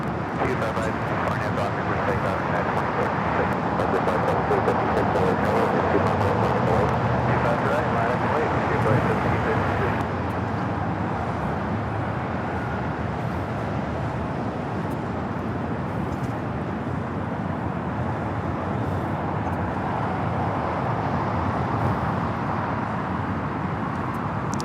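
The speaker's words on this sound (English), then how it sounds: "This is United Airlines 1855 taking off to Newark on the 787-10 Dreamliner" A United Airlines Boeing 787-10 Dreamliner taking off from Los Angeles airport, bound for Newark, as a steady broadband jet roar that holds throughout, with faint voices underneath.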